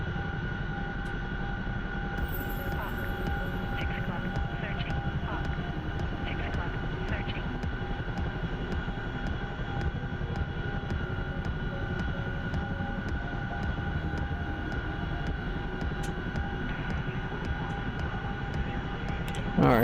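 Helicopter engine and rotor noise from a video game, flying heavily loaded near blade stall while speeding up toward 150 knots, a steady continuous drone with a faint high whine, loud and constant throughout.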